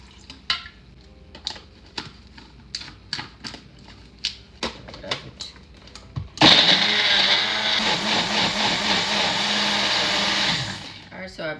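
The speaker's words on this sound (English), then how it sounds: "Alright, so I blend that smoothly and then we continue." A blender roars steadily for about five seconds as it purees carrot for Jamaican-style pumpkin and carrot dumplings, after a stretch of scattered kitchen clatter and taps, then cuts off abruptly.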